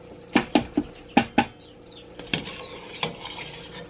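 Lard frying in a pan while animal fat is rendered gives faint sizzling beneath a series of sharp scraping and stirring clatters, several quick hits early on and a few more spaced out later.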